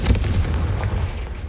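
Confringo fire spell blast from the video game Hogwarts Legacy, a loud booming burst that rumbles on and slowly fades over a second and a half, alone without talk.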